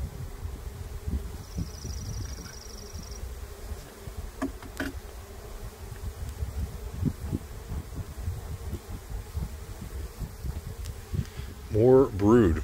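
Honeybees hum in a steady, close buzz around an open hive during an inspection, with faint rustling and a voice speaking briefly near the end.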